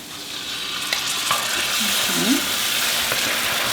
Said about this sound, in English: it's time to add my crushed tomatoes